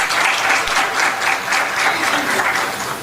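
Enthusiastic audience applause welcoming village representatives at a rural colloquy event in Raipur, a dense steady roar of many hands clapping throughout at close range with no talk.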